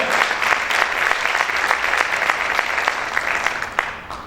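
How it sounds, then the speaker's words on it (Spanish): Steady applause from a church congregation, continuous clapping with sharp individual claps standing out, moderately loud and sustained throughout. "Aplaude fuerte al Señor."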